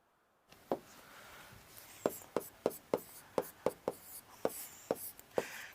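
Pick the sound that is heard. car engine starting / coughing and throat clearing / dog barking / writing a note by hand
writing a note by hand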